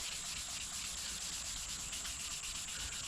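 Steady wet sanding of a car headlight lens with 2000 grit sandpaper, a continuous soft rubbing hiss that holds even for the whole stretch, close and alone with no voices.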